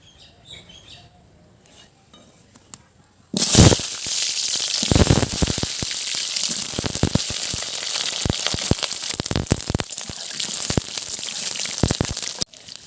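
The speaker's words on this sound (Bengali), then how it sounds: "এবার আলুগুলো ভেজে নেব।" Potatoes frying in hot oil in a pan for a village-style chicken curry, a loud steady sizzle that bursts in after a quiet start and continues with crackling pops to the end.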